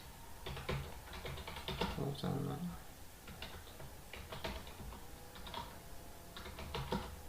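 Rapid typing on a computer keyboard in MS Word, with close, crisp key clicks in irregular bursts and short pauses, alone without talk.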